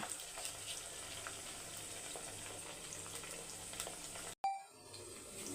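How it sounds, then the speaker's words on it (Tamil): Mustard seeds and cumin splutter and crackle in hot oil in a pan, a steady dense sizzle that runs for several seconds before a brief cut, then a faint clink and quieter frying. "சீரகம் கடுகு நல்லா பொரியட்டோம்"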